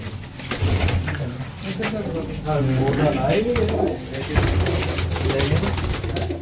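Pet pigeons at a kept loft coo in soft, repeated throaty rolls, close by and overlapping, while someone talks over them.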